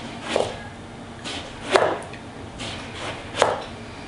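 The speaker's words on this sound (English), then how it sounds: "I'm going to cut up my eggplant." A knife chops half an eggplant into half-inch cubes on a cutting board, producing three distinct sharp thunks spaced more than a second apart. The cuts stand alone against quiet room tone with no talk.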